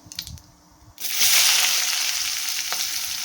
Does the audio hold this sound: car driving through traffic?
no